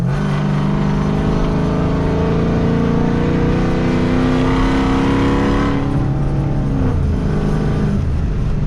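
A loud, close Dodge Charger 392 V8 engine with nitrous revving hard and accelerating, with a deep, throaty rumble that keeps climbing throughout.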